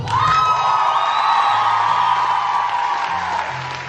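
An audience cheers, whoops and applauds after a KVN comedy performance, a loud crowd roar with high shouts that stays strong for several seconds before easing slightly.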